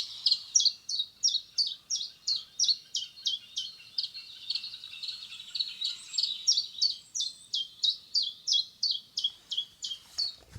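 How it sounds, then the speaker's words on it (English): A chiffchaff sings its repetitive two-note song, steady high chirps in a regular rhythm for several seconds, clear against a quiet background. "I found a chiff-chaff song online."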